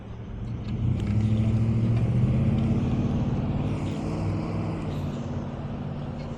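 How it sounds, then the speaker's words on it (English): Cars pass steadily on a busy road, a loud continuous rumble of engines and tyres that swells and holds without a break. Heavier vehicles mix into the traffic, heard from close by at the roadside. "So many cars everywhere."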